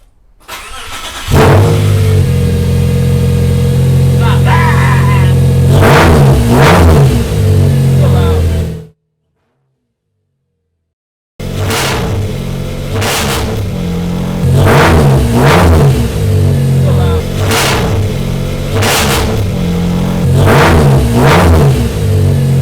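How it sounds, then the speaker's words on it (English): A Subaru Legacy's turbocharged EZ30 engine revs repeatedly through a newly added resonator exhaust with a throaty note, cuts out for a couple of seconds, then idles and revs again, loud and close. "so we got the exhaust on. Still a little bit loud, but it's a lot better"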